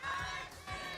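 An esports arena audience at a Grand Finals playoff match roars and cheers loudly, a broad sustained crowd wash with two swelling bursts of shouting through the second.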